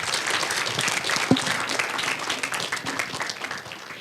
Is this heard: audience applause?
yes